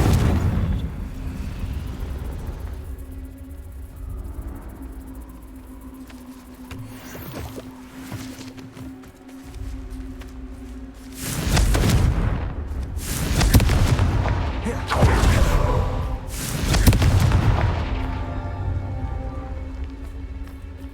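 Fiery Confringo explosive spell blasts in the Hogwarts Legacy video game: a run of loud, broadband booming bursts that arrive after a quieter stretch of ambient rumble, with no talking.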